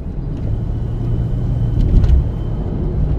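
Steady low car rumble heard from inside the cabin while driving, a constant hum with no talk.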